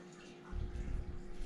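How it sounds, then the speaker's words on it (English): Boiling water is poured into a bowl of gelatin mix, a faint trickle rising into a steady splashing gush partway through, heard close and alone. "now we add the boiling water"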